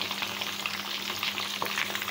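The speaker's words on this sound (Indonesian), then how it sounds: "Ayam serundengnya kita goreng ya." Steady crackling sizzle of chicken frying in hot oil, close up and continuous, with a low hum underneath and no talking.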